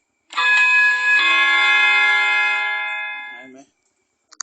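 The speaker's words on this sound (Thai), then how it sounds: "Bim bam striking wall clocks." A bright, metallic bim-bam wall clock striking chime from a cuckoo clock's hourly chime strikes twice in quick succession and rings out for a few seconds before fading, followed by a couple of faint clicks.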